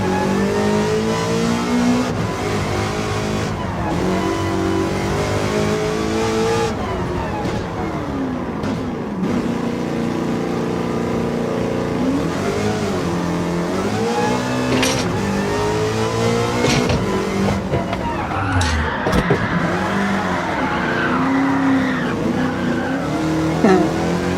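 A race car in Gran Turismo 7 drifts under handbrake, its engine revving hard and steadily while tires squeal and skid through turns, loud and continuous with no talking.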